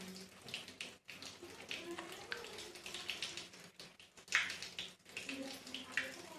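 Running tap water splashes over hands during six-step handwashing, a faint, uneven patter with brief drops and pauses, heard quietly alongside soft background voices.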